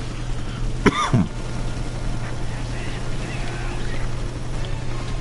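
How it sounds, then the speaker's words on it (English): A person coughs twice in quick succession, close to the microphone, over a steady low hum and faint background sound. "I'm still fighting off this nasty cough"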